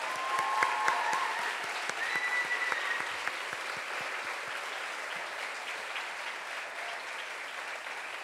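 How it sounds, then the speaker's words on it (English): Audience applause at a 2012 convocation ceremony, a steady wash of many hands clapping that holds evenly throughout, with no talk over it. "You can clap now."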